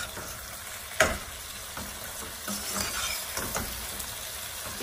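Tomatoes stir-fried with okra and onion in a pan make a steady sizzle, with a sharp utensil clack near the start and scraping stirs throughout, close and fairly quiet.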